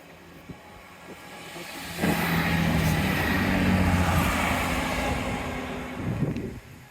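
A train passes along the seawall railway at Dawlish, a rumbling roar that swells abruptly and holds for several seconds before easing off, heard fairly close outdoors.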